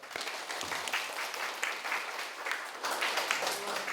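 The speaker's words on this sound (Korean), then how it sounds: "먼 길 오셔서 좋은 말씀 해주신 사장님 다시 한번 박수" A forum audience at Keimyung University claps for a guest speaker, a dense, sustained patter of many hands at steady moderate loudness with no clear talking over it.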